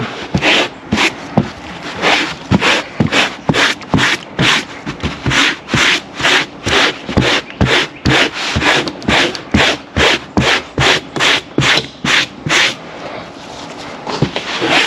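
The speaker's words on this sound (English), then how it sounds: "Brush it out, because again, this had a ton of sand in there." A stiff brush scrubs rhythmically across carpet that held lots of sand, with steady rapid back-and-forth rasping strokes, loud and close, continuing evenly without any talk.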